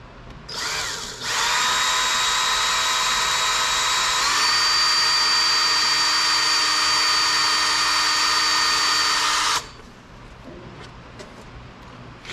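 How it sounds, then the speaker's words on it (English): A power drill fitted with a 1/8 inch bit whines loudly for about eight seconds. Its pitch shifts partway through, and it stops abruptly against quiet background noise. "I have just an 1/8 inch drill bit."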